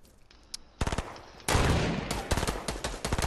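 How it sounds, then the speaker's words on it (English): Sniper rifle fire in a video game, a sharp crack and then a heavy blast, with a few more rapid gunshots from other players trailing after it. The shots are loud and close, with no talk over them. "I want to pop this dude in the head with a sniper"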